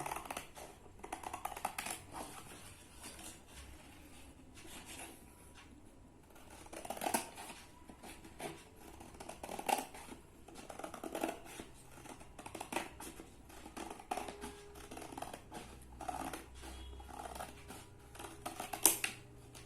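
Scissors cutting brown and white paper for a school craft envelope, a long run of quiet irregular snips and paper rustles, faint and close with no talk.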